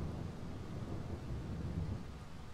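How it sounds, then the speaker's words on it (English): Low, continuous rumble of thunder in the horror video game Darkwood, rolling steadily and fairly loud for a couple of seconds with no voices over it. "Oh no, that's the thunder."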